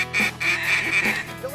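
Ducks quack loudly and close during a South Dakota duck hunt, giving a quick run of nasal, repeated calls that rise and fall, with no talking.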